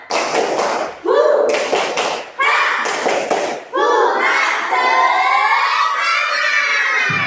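A classroom of children perform a rhythmic spirit clapping chant, sharp patterned claps punctuating their loud chanted voices, then shifting into a sustained sung call together toward the end.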